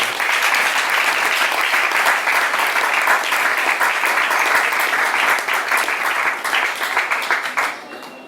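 A church congregation at a Shabbat service applauds a prophet, a dense and steady burst of clapping from many hands that holds for several seconds, then begins to thin out at the end.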